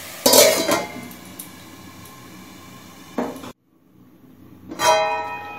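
A lid set down on a pan of salted tomatoes for a five fruit chutney, with a couple of metallic clanks and clinks of cookware close by, separated by a brief pause, and no talking.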